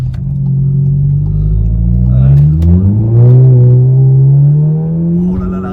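Volkswagen Golf 7 GTI Performance in normal mode accelerating hard, its engine note rising steadily over several seconds as a loud, close rumble with resonance, with faint crackling exhaust pops and voices talking over it.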